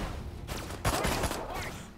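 Bursts of gunfire in the Destroy All Humans game, a few quick sharp cracks clustered around the middle, fairly faint against a busy game background.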